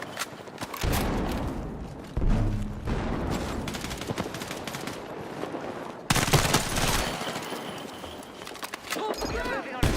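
Video game gunfire in a kill-streak match: repeated loud bursts and rapid shots, dense and near, with impacts and footstep-like clatter around them, under talk from players.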